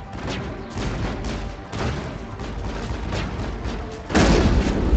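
Shotgun blasts from the Mass Effect video game, several loud booming shots in irregular succession over a dense rumbling battle background, with the final blast the loudest.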